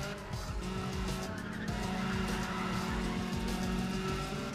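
A racing car in Need for Speed ProStreet brakes hard with tires squealing over a constant engine roar, steady and close throughout, with no one talking over it.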